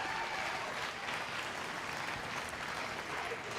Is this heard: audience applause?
yes